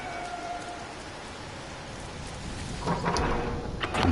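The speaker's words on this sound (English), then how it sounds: "And freezing cold storms." Steady roar of a freezing cold storm on a green, breezy planet in a video game, constant wind and rain noise with a swell and a few sharper gusts near the end, no talking.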